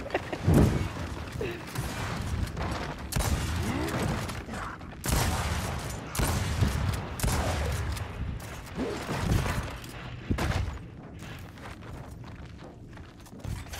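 Gunfire in the video game Gears of War 4 crackles in dense, loud bursts, mixed with mechanical clatter and heavy steps, nearly continuous.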